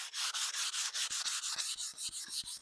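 Light hand sanding of a dampened cherry dresser with 220-grit sandpaper, a steady run of close, soft rasping strokes in a quick regular rhythm, about a dozen back-and-forth passes with no talking.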